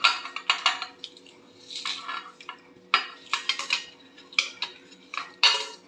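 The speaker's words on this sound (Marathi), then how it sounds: "ते मी याच्यात घालते आहे आणि खलबत्त्यात कुटून घेते आहे" A pestle pounds flaxseed chutney ingredients (roasted gram dal, coconut, cumin, garlic and roasted peanuts) in a mortar, making repeated close clinking and thudding strikes in an irregular rhythm.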